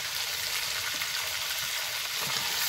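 Mango pieces for a sweet, sour and spicy oil pickle fry steadily in hot oil with turmeric and salt, giving a continuous close sizzle with faint low stirring thumps and no voices.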